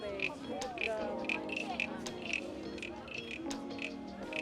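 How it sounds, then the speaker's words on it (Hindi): A wooden frog souvenir instrument being played at a cultural festival market in Ubud, Bali, producing repeated rasping croaks in a steady rhythm while people talk over it. "बिल्कुल मेंढक जैसी आवाज़।"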